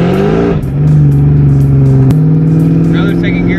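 Supercharged Mustang GT making a full-throttle second-gear pull, engine loud and close with a rising rev that dips briefly at a shift-like break, then a steady strained drone with a sharp click midway.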